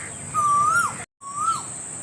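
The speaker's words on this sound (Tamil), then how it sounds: "குயில் கூவுது." An Asian koel perched in a tamarind tree in dense woodland gives two clear, rising-then-falling whistled calls separated by a short gap, heard over a steady, high insect drone with no talking.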